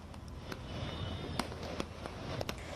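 Fireworks set off outside the Mahakal Corridor in Ujjain after its inauguration give a scattering of sharp, distant pops and cracks over a dense, rumbling crowd murmur.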